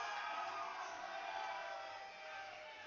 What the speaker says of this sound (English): Oh, the crowd is going nuts.